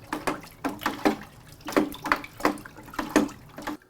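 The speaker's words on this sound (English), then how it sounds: "Just take you a spoon or anything and give all this a really good mix." A spoon stirs salt brine in two gallons of water for a turkey, giving a run of close, rhythmic sloshing swishes about every half second, with no talk.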